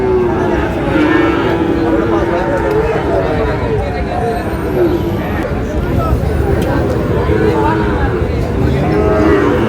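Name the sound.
Sahiwal bull calves at a cattle market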